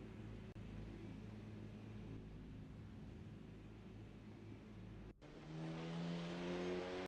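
Race cars in the SMSA Polo Supa Cup warm up on a practice out lap at Killarney International Raceway, a steady engine drone from a distance that swells louder near the end as a car approaches.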